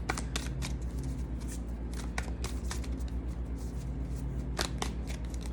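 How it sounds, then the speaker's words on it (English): Tarot cards being shuffled by hand in a steady stream of close, crisp flicks and slaps, over a low constant background hum. "but they want me to shuffle"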